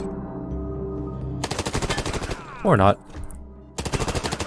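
Gunfire in the video game Wasteland 3: rapid machine-gun bursts in two loud, close volleys, with a brief spoken remark between them over steady game background sound.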